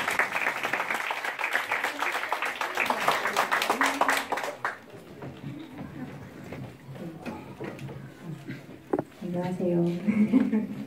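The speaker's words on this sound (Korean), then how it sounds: "박수 쳐주세요." A church congregation at a Christmas special applauds as a woman comes forward, with lively clapping for about five seconds before it dies away and a voice begins speaking.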